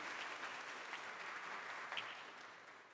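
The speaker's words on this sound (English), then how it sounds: "We give her a round of applause." An audience at a commencement ceremony applauds, a dense steady wash of many hands clapping in a large room, fairly faint and tapering slightly toward the end.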